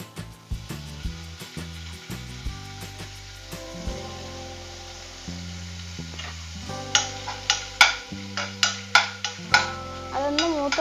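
Chopped ginger and green chilies fry in hot oil for banana flower cutlets, with a steady sizzle and repeated scraping stirs in the pan. The stirs grow louder and quicker toward the end.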